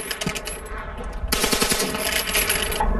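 A Browning fully automatic machine gun fires a loud, continuous rapid burst at an outdoor shoot, with dense repeated reports and ringing echo close by, after a brief quieter lead-in.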